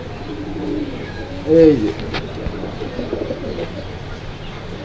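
Pigeons coo at the pigeon section of Jinjira market, with one clear, brief coo standing out over a busy background murmur, while someone speaks nearby.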